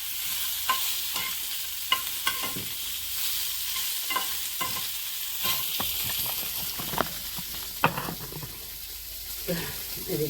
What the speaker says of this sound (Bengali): এদিকে মাছ ভাজা হচ্ছে, এটা মাছটা ভাজানো হচ্ছে